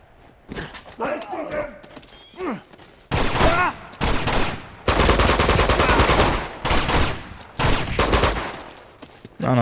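Bursts of automatic gunfire in Uncharted 2: Among Thieves, loud and close, arriving in several long rattling volleys after a stretch of talking, with someone speaking between the shots.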